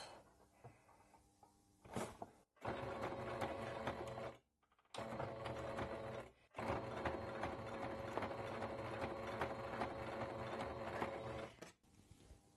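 A sewing machine stitching bias binding runs in long, steady mechanical bursts, broken by brief pauses and a short early run, loud and close with no talk.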